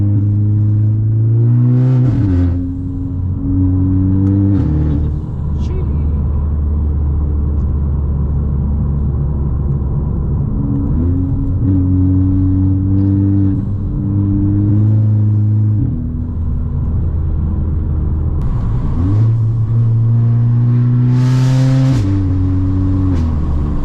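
A Volkswagen Scirocco accelerates hard on a road, its engine rising loudly through repeated gear pulls with droning revs, brief drops at each shift, heard close from inside the car.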